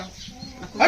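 A single short, sharp dog bark bursts out at the end after a moment of quiet background murmur, during a cobra rescue.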